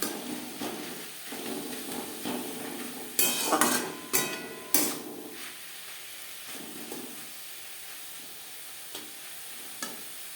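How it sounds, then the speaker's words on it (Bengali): Pea leaves are stir-fried in a pan over a high-to-medium gas flame, with soft sizzling and stirring, then a burst of loud utensil clatter and scraping before it settles back to a quieter sizzle. "গ্যাসের ফ্লেমটাকে হাই টু মিডিয়ামে রেখে আরও দু তিন মিনিট নাড়াচাড়া করে নেব"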